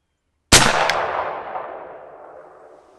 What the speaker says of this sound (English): we're going to shoot a couple shots and see where our zero's at